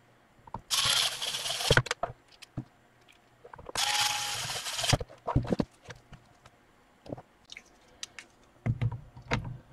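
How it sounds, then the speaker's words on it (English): Screws being driven back into a 2012-era Gateway laptop: two short whirring bursts from a small electric screwdriver, close and fairly quiet, separated by light clicks and handling taps. "Go ahead and reinsert the screws."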